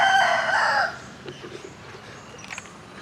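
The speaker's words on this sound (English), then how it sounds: "There's even more chickens over there." A rooster crows loudly and close for almost a second in Bali, then fainter scattered chicken clucks follow over quiet outdoor background.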